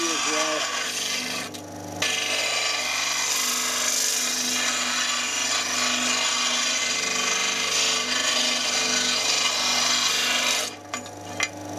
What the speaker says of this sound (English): it is ideal for sanding steel as well